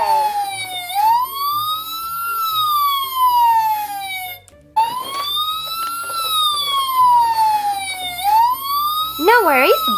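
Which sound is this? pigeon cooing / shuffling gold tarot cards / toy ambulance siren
toy ambulance siren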